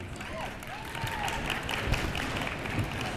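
Audience applause at a live event: dense, steady clapping from a seated crowd that keeps going at an even level throughout.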